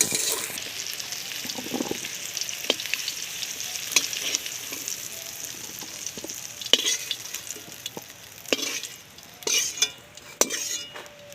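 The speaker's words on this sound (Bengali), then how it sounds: "ডাটাগুলো কিন্তু আমি একদম হালকা করে ভেজে নিয়েছি এর আমি তুলে নিচ্ছি" Drumstick stems fry lightly in oil in a pan, giving a steady close sizzle broken by scattered clicks and scrapes of a utensil stirring them, with no voices.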